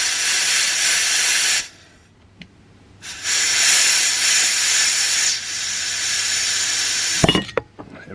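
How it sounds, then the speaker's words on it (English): Compressed air blown into an ATE brake caliper from a VW/Audi-group car to push the piston out: a loud, steady hiss that stops, returns for a longer blast, then ends in a sharp knock and clatter. "it's no way to get it out except for using compressed air"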